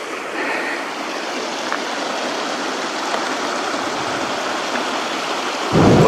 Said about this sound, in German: Und hier wieder einen schönen kleinen Wasserlauf in beide Richtungen.